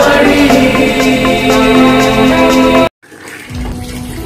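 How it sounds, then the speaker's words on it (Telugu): An open household tap pours a loud, steady stream of water close by for about three seconds, then cuts off abruptly, leaving a quieter, fainter background hum. "వాటర్ వేస్ట్ అవుతున్నాయి, ఆ ట్యాప్ ఆపొచ్చుగా."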